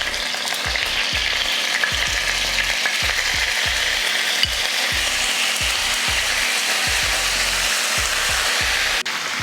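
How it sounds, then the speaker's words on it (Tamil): Chicken frying in hot oil in a pan for a lemon chicken fry, a loud steady sizzle with a rapid series of clicking, ticking pops repeating throughout, close up and without talk. "எண்ணெய் காஞ்சதுமே சிக்கன் எடுத்து வச்சிடலாம்."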